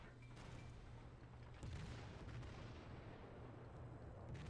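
The main guns of the Japanese tier 7 battleship Nagato fire in the naval game World of Warships, a single muffled boom partway through over a low, faint background rumble.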